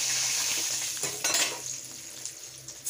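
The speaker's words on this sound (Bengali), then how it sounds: "তো মাছগুলি উল্টে পাল্টে হালকা করে ভেজে নিয়েছি" Fish frying in hot oil for Bengali dudh koi, a steady close sizzle with a brief stir and light clinks of a utensil against the pan, no talking.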